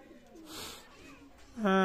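A single male Dabwala pigeon gives a short, soft cooing call up close, with a faint voice murmuring in the background before it.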